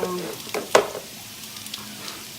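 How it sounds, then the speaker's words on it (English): Leftover Shanghai spring rolls fry in a pan with a soft, steady sizzle, and a few short stirring or scraping clicks come early on. "piniprito ko yung tirang Shanghai na ginawa ni Jen."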